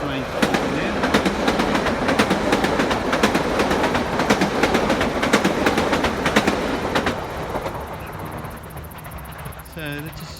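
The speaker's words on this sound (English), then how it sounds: "There's a train coming there." A train rumbles past nearby on a narrow trail by Kananook Creek with rhythmic clattering wheels, loud and steady, then fades as it moves away, ending with a faint squeal.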